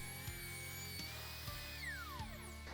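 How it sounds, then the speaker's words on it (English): Woodworking router with a straight bearing-guided bit trimming a guitar body against a template, a steady high whine with sharp tonal bands and brief bumps as the cut progresses, close and continuous. "I can use the router with a straight bit that has a bearing on the top to trim the guitar"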